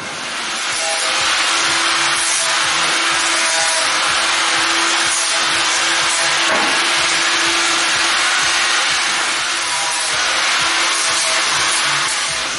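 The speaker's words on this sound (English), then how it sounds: "Now we're gonna clean up a little bit edges using same angle grinder, same disc" Continuous abrasive grinding from an angle grinder sanding wood edges, a steady high whine with rough scraping texture, loud and close throughout.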